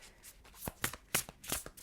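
Tarot cards being shuffled by hand, a quick run of close, crisp riffling slaps and flutters with no talk.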